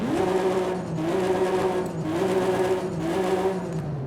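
A modified-exhaust Toyota Soarer in Forza Horizon 5 drones loudly with a deep exhaust note, its pitch rising and dipping in repeated cycles as it revs and shifts.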